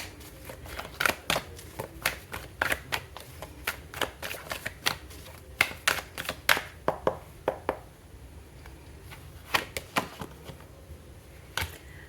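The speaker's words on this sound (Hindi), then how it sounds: "फ्यूचर कार्ड्स निकालते हैं" A tarot deck shuffled and cards drawn by hand: steady, rapid papery flicks and slaps in close succession, near and crisp, with a brief lull partway through.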